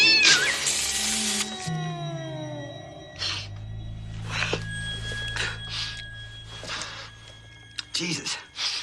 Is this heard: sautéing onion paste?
no